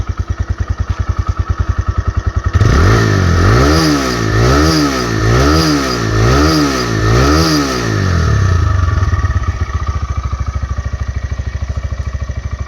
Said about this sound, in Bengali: গাড়িটা এখন স্টার্ট করে সাউন্ড কন্ডিশন দেখাবো